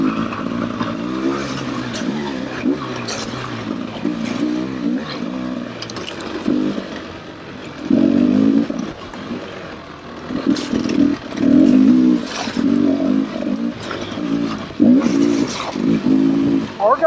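A KTM 300 XCW two-stroke dirt bike pulling in third gear on a trail, its engine loud and close with a steady buzzing drone that surges in pitch several times, with some clatter and brief talk underneath.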